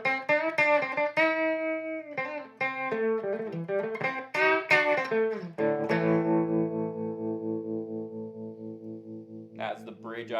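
An electric guitar on its bridge pickup runs through a Lovepedal Blue Wave tremolo pedal, playing a quick run of bright notes and then a sustained chord that pulses and decays, close and clear.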